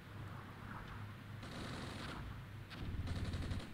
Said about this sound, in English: The recon is firing on the motor rifle squad. Probably firing on us as well.